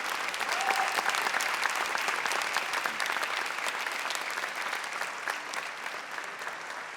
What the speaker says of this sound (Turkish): 100 bin lira için Işıl Hanım'ı alkışlıyoruz efendim.